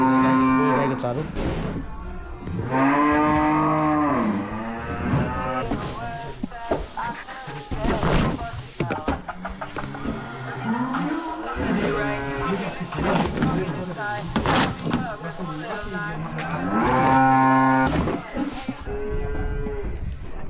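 Cattle in a new cowshed on a Sikkim farm, several loud drawn-out moos repeating across the stretch, close by, with a voice speaking at times among them.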